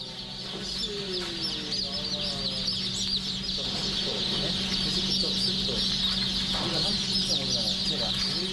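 Newly hatched chicks at an industrial hatchery peep and chirp constantly in a crowded chorus during sex sorting, with a steady mechanical hum underneath and some faint background voices.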